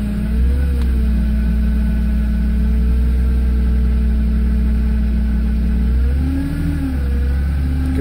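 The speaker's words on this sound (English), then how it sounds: "Holy smokes, well there's a Canadian cold start for you." Car engine cold-started at -25C, a loud steady idle with throttle blips that rise and fall near the end, heard close with no talking.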